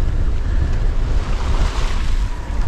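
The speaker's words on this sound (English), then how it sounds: "Quite windy at the moment, blowing 27 knot gusts" Strong wind gusting to 27 knots roars across open water at sea with waves washing steadily underneath, a continuous loud rushing with no voices.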